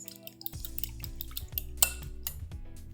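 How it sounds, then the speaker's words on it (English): Wet muffin batter with soybean oil being mixed quickly in a bowl, with clinking utensil taps, scraping and light liquid sloshing in a short, busy burst. "I'm just gonna give this a quick mix together, just like that."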